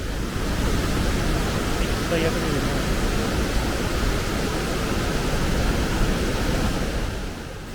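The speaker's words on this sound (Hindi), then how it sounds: "यहाँ दूर से ही पानी की खतरनाक आवाज़ आ रही है और लग रहा है कि काफ़ी ऊपर से पानी गिर रहा है।" Constant dense roar of water falling from a great height, heard from a distance near a bridge on the Kishtwar to Killar road along the Chenab, steady and unbroken throughout.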